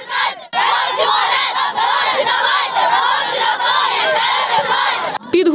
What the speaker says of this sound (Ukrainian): Гучні вигуки вболівальниць.